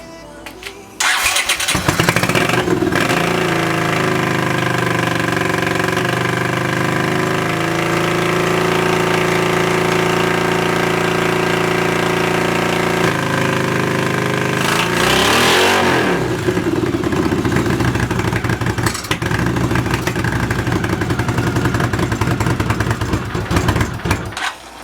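A Honda CX500 cafe racer motorcycle's engine is cranked and fires up, then runs steadily with a loud, continuous mechanical drone, a brief dip and rev partway through, recorded nearby.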